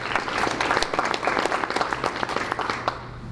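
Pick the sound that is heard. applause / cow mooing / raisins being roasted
applause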